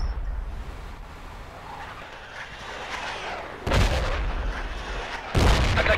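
Mortar artillery fire in the military shooter Project Reality, a distant rumbling battlefield backdrop broken by two sharp, loud blasts in the latter half, each with a ringing tail.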